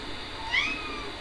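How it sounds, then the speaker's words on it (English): A cat gives one brief meow in a room, quiet and partly masked by steady shortwave radio hiss. "I don't know if you heard the cat, but that was the cat."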